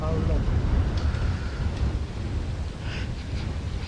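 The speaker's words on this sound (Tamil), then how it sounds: "காற்று செமையாக இருக்குங்க." Strong wind roars steadily across a forested island of bamboo and sandalwood where elephants roam, a broad continuous rush buffeting the microphone throughout.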